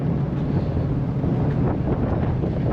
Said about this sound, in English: See the wind? This is gonna get cold.